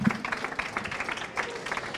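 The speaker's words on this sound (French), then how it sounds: "On applaudit Alex et on vous applaudit" Brief burst of audience clapping at an agricultural show event, moderately loud and steady, with some voices mixed into the crowd noise.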